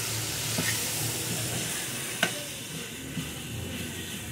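Mutton curry being stirred and mixed in a kadai, a steady sizzling hiss with soft scraping and a couple of brief clinks, close and continuous with no talk.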